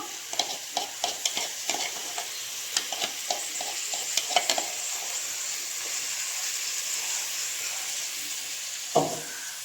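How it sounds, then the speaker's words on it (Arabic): Food sautéing with garlic in ghee sizzles in a pan, a steady hiss broken by short clicks and scrapes of stirring, with one louder scrape near the end. "هنسيبها تتشوح بالتوم، وبعد كده هنبقى نحط لها بقيه حاجتها"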